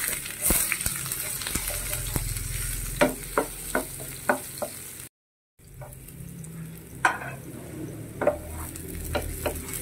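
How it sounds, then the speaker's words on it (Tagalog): Ginger and onion sautéing in a pan for a smoky chicken sour stew, a steady sizzle with sharp stirring scrapes and clacks punctuating it, close up, with a brief dropout midway. "gisahin natin yung unang-una ay yung ginger. Sunod natin ang sibuyas"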